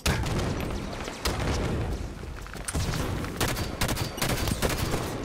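Rapid bursts of light rifle fire in a Halo 5 Guardians multiplayer match, sharp repeated cracks overlapping densely and loud throughout with brief gaps, no talking.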